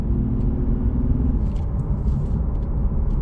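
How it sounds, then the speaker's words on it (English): Inside a 2021 Lexus IS350, the naturally aspirated V6 pulls with a steady, heavy low rumble under road noise, no talking over it. "it's a naturally aspirated V6"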